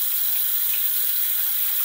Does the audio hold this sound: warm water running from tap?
yes